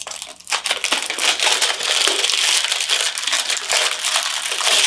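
Hands tearing open the packaging of a Ballet Crypto hardware wallet, with close, loud crinkling and crushing of wrapping that continues steadily for several seconds.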